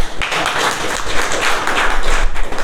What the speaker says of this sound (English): A big round of applause for the.